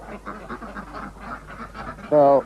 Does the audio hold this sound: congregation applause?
no